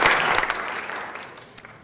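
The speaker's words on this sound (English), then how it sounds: "Give her a big round of applause again." Applause from a city council meeting audience, a dense wash of clapping that starts full and gradually thins and fades over a couple of seconds, with a stray clap near the end.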